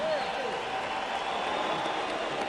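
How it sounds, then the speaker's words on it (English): Crowd applause after a four-round heavyweight boxing bout, a steady wash of clapping throughout, with an announcer talking over it. "how about a round of applause for the 4 rounds of heavyweight action, the Cowboy and the Butterbean."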